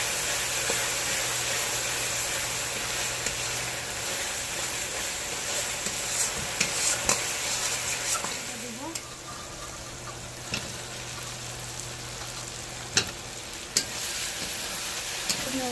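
Turmeric and spices fry in a pan for a meat curry, a steady sizzle running throughout with occasional scrapes and clinks of a spatula being stirred, close and moderately loud.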